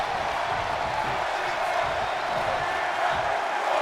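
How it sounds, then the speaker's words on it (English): Virtual arena crowd in the WWE 2K23 wrestling video game roaring after a high-risk frog splash, a dense, continuous wash of cheering that stays loud and even throughout, with no clear voices. "the crowd is on their feet"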